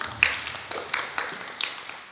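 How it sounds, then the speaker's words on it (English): A small audience at a sixth-grade school history presentation gives a short burst of scattered hand claps, a few sharp individual claps standing out close by and then thinning out over about two seconds. "Let's give her a big round of applause."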